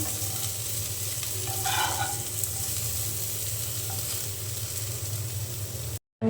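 Potatoes fry in oil in a wok, a steady close sizzle with stirring scrapes that runs without a break for about six seconds and then stops suddenly.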